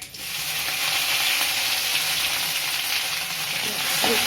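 Curry leaves dropped into hot oil crackle and sizzle loudly and steadily up close, a dense continuous frying hiss with a faint clink near the end.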